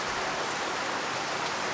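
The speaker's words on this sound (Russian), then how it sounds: "Нас опять поливает дождик." Steady rain falls in the countryside near a farmyard construction site, a dense even hiss of drops on surfaces with no other sounds.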